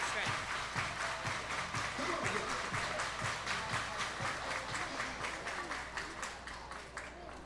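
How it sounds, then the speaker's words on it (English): Crowd at a minor league baseball game claps in a steady rhythm, a moderately distant patter of many hands continuing throughout, faint voices mixed in. "Everybody clap your hands."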